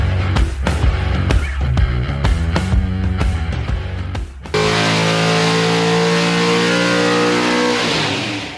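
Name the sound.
car engine revving on a dyno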